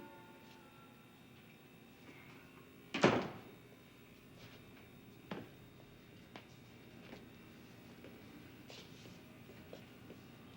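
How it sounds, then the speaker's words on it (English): A single sharp thump of a door, as if swinging open, breaks a quiet room; a few softer knocks follow at a distance. "Shouldn't keep your door open, Sam, if you don't want company"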